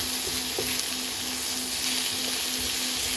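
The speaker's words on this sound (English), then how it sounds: "Having a good old stir with a lovely stir fry" A lovely stir fry sizzles in a pan while being stirred during an autumn stay in France: a steady, close, bright hiss runs throughout, with a few soft knocks from the stirring.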